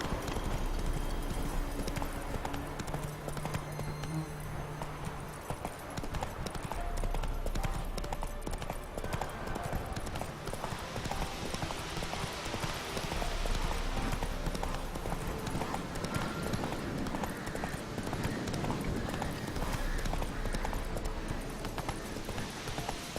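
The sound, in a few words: horse hooves clip-clopping while riding, video game Witcher 3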